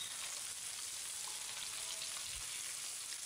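Small fish frying in a pan of oil, a faint, even hiss of sizzling that holds steady without stirring or speech.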